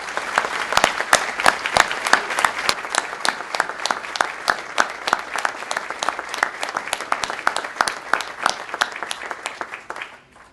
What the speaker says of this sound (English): If I could have a huge round of applause for former Mayor Fred Smith.